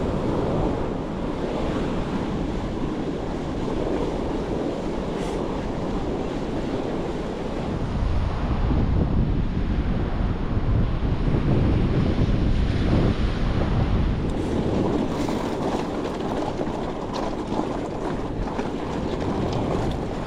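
Ocean waves wash onto a beach on Haida Gwaii, a continuous rushing surge that swells louder in the middle, mixed with heavy wind buffeting the microphone and no talking.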